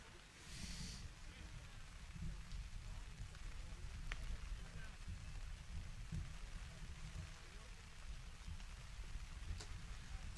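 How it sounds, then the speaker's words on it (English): Heavy rain falls steadily during an outdoor baseball game between Eau Claire and Plum City, a faint, even hiss throughout with occasional soft patters. "The rain comes down."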